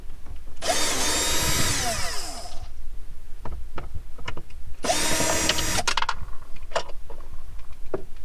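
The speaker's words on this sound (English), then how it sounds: "I just grabbed the drill. It's going to pull these bunch of screws off" Two loud bursts of a power drill whirring, each lasting about two seconds, removing screws from Mitsubishi Evo X interior trim, separated by clicks and rattling of loose screws and metal.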